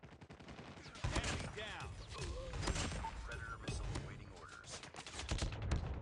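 Rapid machine gun bursts echo through a Call of Duty Mobile match, with repeated sharp gunfire and impacts alongside someone talking over the action.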